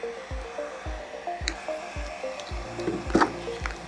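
A heat gun warming paint protection film on a car hood gives a steady blowing hiss close by, with a regular series of soft low thumps and a few light crackles of film lifting.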